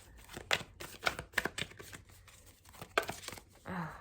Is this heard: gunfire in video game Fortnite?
no